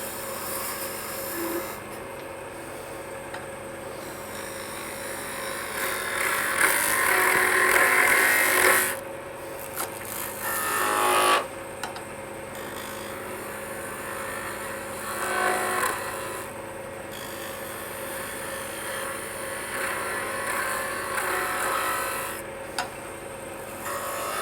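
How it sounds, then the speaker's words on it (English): A skew chisel taking peeling cuts on wood spinning on a lathe while shaping a tea light holder, a sustained scraping rasp that rises and falls in passes over a steady motor hum. "I'm going to go ahead and do some peeling cuts to get this down here."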